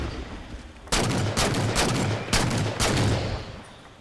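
Sniper rifle shots in the Halo 4 video game, four loud, sharp reports spaced roughly half a second apart after a quiet opening, each with a ringing tail over a steady game background.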